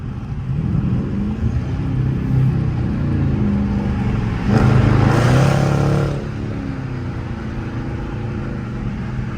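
A Dodge Charger RT with a 5.7 and an aftermarket exhaust drives in its stock auto mode, giving off a deep, steady exhaust drone from inside the car that swells into a louder throaty surge for a couple of seconds before settling back.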